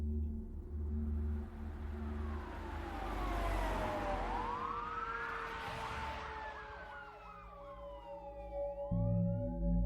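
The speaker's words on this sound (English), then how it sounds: "he heard sirens approaching through the woods" Several emergency-vehicle sirens wail and sweep in rising and falling tones as the vehicles approach through woods, growing louder and overlapping over an engine rumble.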